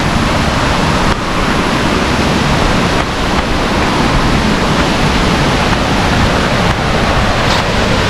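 Marachuvadu waterfall in Senapathy, running full in high-water season, gives a dense, steady rush of falling water that fills the scene with constant broadband roar and no voices.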